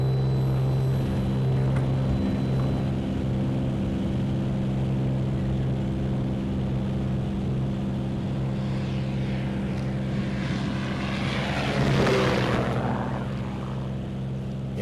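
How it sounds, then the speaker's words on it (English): A Bonanza propeller plane departs on its takeoff run, its engine drone loud and steady throughout, swelling briefly near the end as it passes. "Bonanza 3594 Alpha will be departing runway 11 to the northeast behind the Piper"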